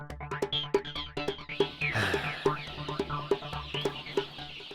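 Chickens in a poultry house cluck in steady, overlapping bursts, close and fairly loud, with a rising squawk in the middle of the flock's chatter.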